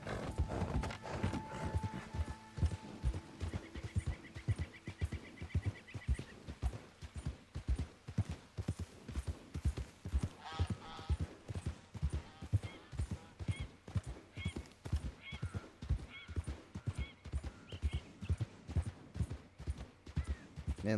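Steady clip-clop of a horse's hooves in Red Dead Redemption, a rapid regular rhythm of hoof strikes continuing throughout, with a brief whinny-like tone early on and occasional faint game sounds.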